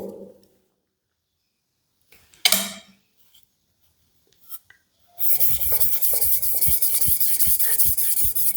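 A steel hand-plane blade scraping back and forth across a sharpening stone, a steady, close, continuous rasping after a few brief scrapes and a near-silent start.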